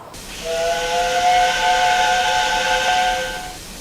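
A steam whistle blows one long, steady chord with a breathy hiss, rising in quickly and cutting off after about three seconds.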